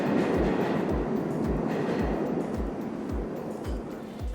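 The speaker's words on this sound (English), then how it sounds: "you will still hear in the background that Underground train moving or going past." A London Underground train moving past, with a steady loud rumble and a regular clickety-clack of wheels over rail joints, repeating about twice per second throughout.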